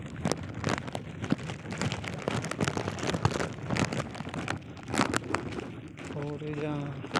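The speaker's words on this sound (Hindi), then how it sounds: "और यहाँ काफ़ी ज़्यादा बारिश है।" Heavy rain falls in a village, a dense hiss of drops drumming on surfaces throughout, with a voice talking over it and a faint tonal sound near the end.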